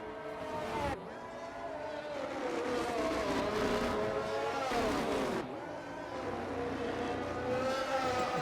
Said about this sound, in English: And we've got an Aston Martin of Jelly. We'll stay on board with Jelly.